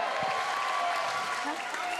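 A crowd at an LFA flyweight title fight night cheers and applauds in a continuous dense wash of clapping and noise, with people talking over it.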